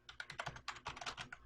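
Rapid typing on an old computer keyboard at night, a quick run of distinct clacking keystrokes close up, fairly loud against a quiet room.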